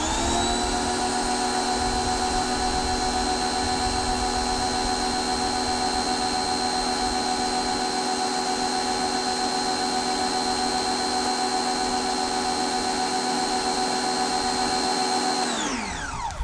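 A Ryobi 1800psi electric power washer sprays a bike, giving a loud, steady high-pitched motor whine and hiss that holds for about fifteen seconds before winding down at the end.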